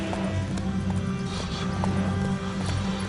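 Horse hooves galloping in The Witcher 3: Wild Hunt on PS5 Pro, a rapid continuous clip-clop rhythm close and steady throughout, with a brief whinny and game ambience beneath.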